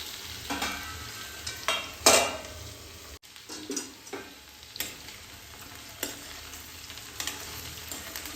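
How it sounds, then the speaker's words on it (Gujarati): Okra fries in a pan as a tempering sizzles, a continuous crackling hiss broken by sharp clattering stirs and scrapes of a spatula against the pan, close and with no talking. "વઘારવાના અવાજ આવતા હશે"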